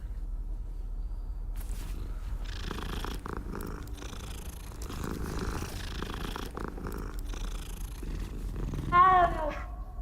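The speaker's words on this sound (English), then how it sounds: "Here comes the cat." A cat purrs steadily in the video game Hogwarts Legacy, a soft continuous rumble running the whole time with a brief higher meow-like chirp near the end.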